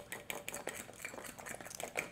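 A fork beating peanut butter chaffle batter in a bowl, quick repeated light clinks and scrapes in an uneven rhythm, close and fairly quiet.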